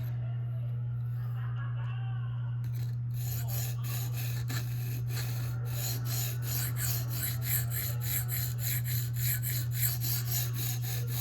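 Sharpening a Spyderco REC Manix 2 knife blade clamped in place, grinding toward the plunge line: a steady rasping scrape repeating in quick strokes over a constant low hum, fairly quiet and close.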